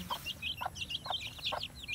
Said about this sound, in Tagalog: May isa pala na inahin na may sisiw.